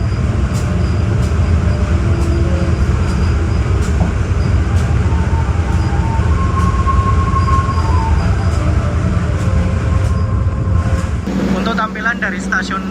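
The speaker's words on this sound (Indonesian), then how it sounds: "kereta api Erlangga akan segera diberangkatkan lagi dari stasiun Ngrombo" KA Airlangga economy train pulling away from Ngrombo station, a steady loud rumble of wheels and engine drone with faint repeated clacks, close and continuous before the tone changes abruptly near the end.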